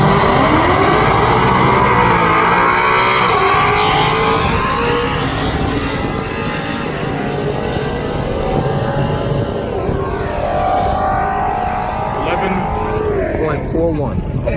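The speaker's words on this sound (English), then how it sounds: "That CTS-V wagon, he's put some serious work into that car." A heavily modified Cadillac CTS-V wagon accelerates hard down a drag strip, its loud engine roaring steadily throughout with rising pitch as it pulls through the gears.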